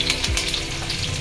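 Chopped onions and green chilies hiss and crackle in hot oil in a pan, a steady close sizzle for pasta with no talking.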